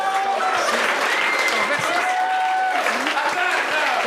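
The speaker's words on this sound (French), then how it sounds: "J'aimerais ça qu'on applaudisse tous les humoristes qui étaient sur le spectacle ce soir." A comedy-show audience applauding the comedians, dense continuous clapping from a sizeable crowd at steady loudness, with a voice speaking faintly over it.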